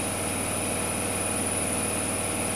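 A Zanussi Flexi Dose ZWG7120K washing machine on its final spin drones loudly and continuously, a steady high whine over a low rhythmic rumbling pulse.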